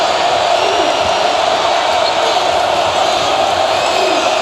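A big arena crowd roars steadily at a college basketball conference tournament championship game between SMU and UConn. The dense, loud cheering holds without a break and stays constant from start to finish.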